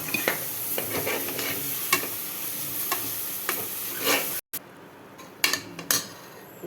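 Tomatoes and ginger garlic paste sauté in oil with a crackling sizzle, punctuated by sharp stirring scrapes and clinks of a spoon against the pan. A brief dropout occurs midway before quieter stirring resumes.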